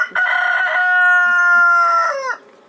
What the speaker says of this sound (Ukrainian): Курочок ми інколи випасаємо на травичку